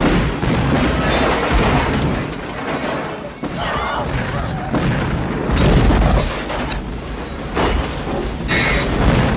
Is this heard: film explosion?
yes